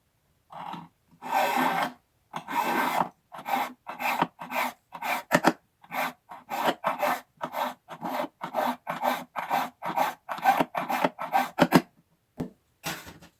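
A hand file smooths the rough sawn edge of a metal piece in a long series of rhythmic rasping strokes, each a short scratchy burst with brief pauses between, close and fairly loud.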